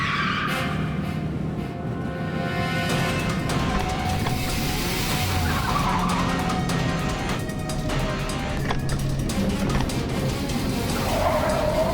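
A car drives at speed with engine roar and squealing tire skids, loud and continuous over a busy, dramatic background.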